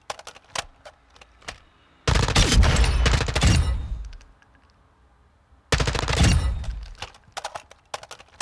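An M4 rifle fires in Modern Warfare 2 DMZ, with two long bursts of rapid automatic gunfire between scattered single shots and soft clicks.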